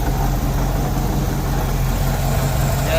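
A 1978 Chevy C10 Squarebody pickup with a newly rebuilt carburetor idles steadily after its first start in years, a close, loud, continuous low engine rumble with faint vibration and no talk.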